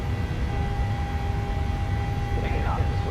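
Jet engines of a PMDG 737-700 in Microsoft Flight Simulator spool to takeoff power, a steady broadband roar with a constant tone running under it, with voices talking over the engine noise throughout.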